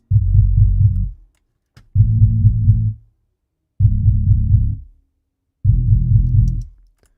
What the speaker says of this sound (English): Let's hear just the bass.